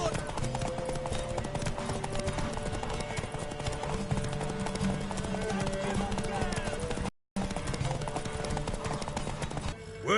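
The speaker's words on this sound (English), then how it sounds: "Worthy of the best horse." Steady, rhythmic clip-clop of horse hooves in a PS4 video game during a horse race, with game music and voices layered throughout and a brief dropout near the end.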